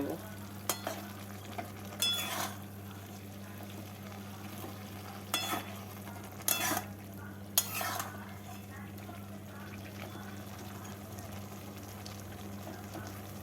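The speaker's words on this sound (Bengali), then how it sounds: "এবারে ভেজে রাখা মাছগুলো এর মধ্যে দিয়ে দিচ্ছি" Fried tangra fish is stirred into a bubbling curry, with a low steady simmer under it and a few distinct scrapes and clinks of a spoon against the pot, sounding faint and unhurried.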